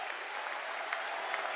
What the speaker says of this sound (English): Give Jennifer a big round of applause